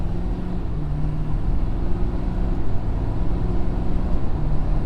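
Deep steady engine rumble from a 2020 Ford F-350 Super Duty Platinum pickup, leveled on 37-inch tires, building under throttle; loud and continuous, heard from inside the cab with no talking.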